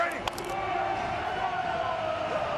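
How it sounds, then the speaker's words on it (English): Feisty crowd at a UFL football stadium game between the Houston Roughnecks and San Antonio Brahmas, a steady roar of noise from the stands with a brief sharp accent early on. "Feisty crowd"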